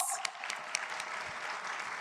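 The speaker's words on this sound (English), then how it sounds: "Let's start off by warming up the room with a round of applause." Audience applause fills a room at the Diaspora Summit 2025 in Accra, a steady wash of many hands clapping at moderate volume with a few sharper claps standing out, sustained throughout.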